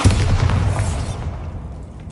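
A Bombarda spell explosion in Hogwarts Legacy, one loud booming blast that rumbles and fades away within two seconds.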